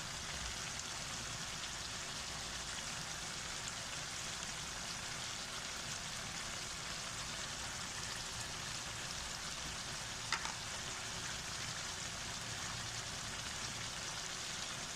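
Onion with red chili powder and other spices frying in a pan makes a steady, dense sizzle that hisses evenly and continuously at moderate loudness, with one brief tick partway through.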